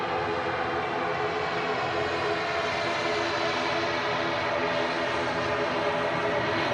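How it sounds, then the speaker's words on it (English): Qatar Airways Boeing Dreamliner taxiing toward the runway at Manchester Airport, a continuous loud jet engine whine and roar with steady tonal hum, unchanging throughout. "moving closer to that runway. Here's the Qatar Dreamliner."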